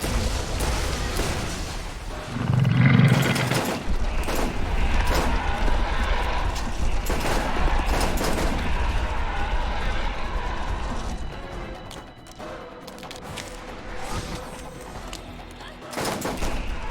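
Assault rifle fire in Borderlands, repeated shots and bursts layered over dense game noise and a low rumble, with a voice talking throughout.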